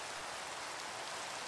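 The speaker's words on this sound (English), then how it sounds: "come on, rain, give me a break. I need a break from the rain." Steady rain falls in Minecraft, a continuous broadband hiss of drops pattering on surfaces, even and fairly loud throughout, with no voices over it.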